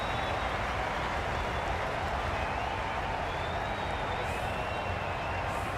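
At an IPL 2023 cricket match between RCB and MI, a stadium crowd keeps up a steady, distant roar of noise with no breaks, moderately quiet and broad like a constant wall of sound.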